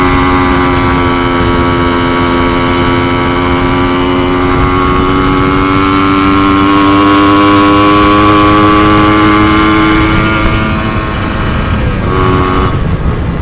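Motorcycle fitted with a TM32 carburetor on a test ride, engine droning steadily and loudly throughout with rising harmonic pitch as it accelerates, then a brief dip and shift near the end.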